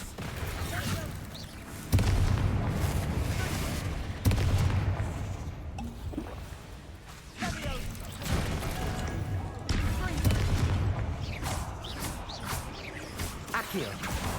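Repeated booming blasts of the Bombarda explosion spell in Hogwarts Legacy, several sharp impacts spaced a few seconds apart over a rumbling background, with a voice speaking between them.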